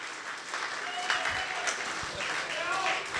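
Audience at a Hindi poetry gathering breaking into sustained applause, dense clapping that swells and holds for several seconds, with voices mixed underneath.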